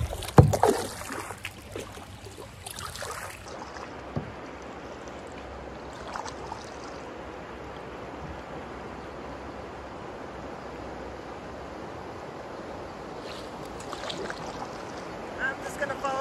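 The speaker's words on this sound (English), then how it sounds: "Hit some rapids up ahead." Kayak running river rapids on the Verde River in Arizona, with steady broadband rushing water throughout, a few louder splashes and paddle knocks near the start and again toward the end.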